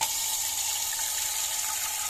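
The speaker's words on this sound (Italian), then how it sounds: "Acqua, tanta acqua." Water pours steadily from a kitchen tap into a pot, a constant close rushing hiss with no break.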